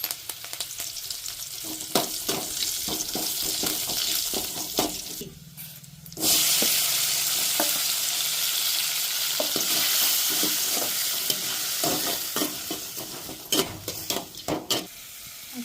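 Garlic and curry leaves crackling in two spoons of hot oil in a kadai for village-style ennegayi, a loud frying hiss that surges after a brief quiet, broken by spatula clanks and scrapes, close with no voices.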